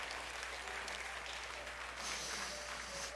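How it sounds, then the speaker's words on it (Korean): A church congregation applauds a pastor during a Sunday worship service, steady dense clapping sustained throughout, filling the room with broadband applause. "우리 다시 한번 왕태환 목사님에게 감사와 격려의 박수 하겠습니다."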